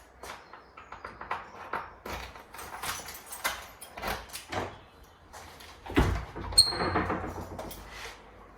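A house's back door is unlocked and opened in a quiet rural French setting: a string of small clicks, rattles and knocks from key and latch, then a heavier thud and creak near the end, close and fairly soft.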